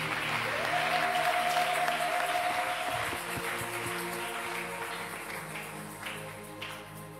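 A church congregation at a Christian preaching service bursts into loud, sustained applause, dense clapping that fills the room, peaks early and then tapers slightly while continuing to the end.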